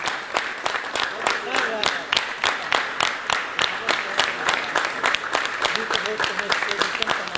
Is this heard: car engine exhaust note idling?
no